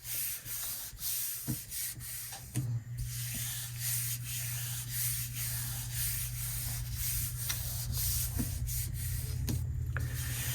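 A hand rubs firmly over a gel plate laser print transfer, producing a continuous close scratchy rasp with faint repeated strokes over a steady low hum, no talking.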